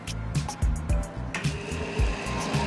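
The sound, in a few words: blender mixing egg yolk on slow setting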